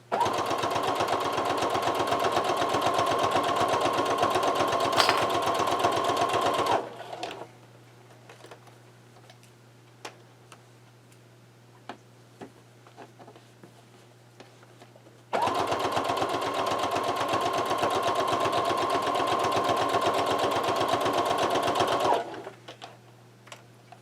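A sewing machine stitches a quilt-as-you-go quilt block in two long, steady runs of rapid mechanical chatter, split by a quiet pause with faint handling noises.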